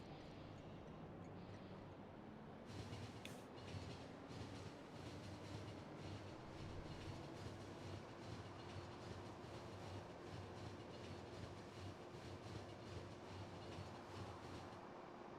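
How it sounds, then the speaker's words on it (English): A train rides the rails in Factorio with the Pyanodon's mod, giving a continuous rumble with rhythmic clickety-clack. A tone rises slowly as it picks up speed, and the sound stays steady and moderately quiet throughout, with no talk. "Let's just take a ride in this train up to the next stop in the process."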